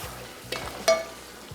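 A spoon stirs biryani masala in a pot with a soft sizzle beneath, broken by two short scraping knocks, the second louder, in a brief quiet moment without speech.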